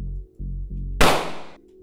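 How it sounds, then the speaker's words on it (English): A single sharp 9mm pistol shot, one loud close crack with a short decaying tail, following a low steady hum. "so 9mm sounds pretty good"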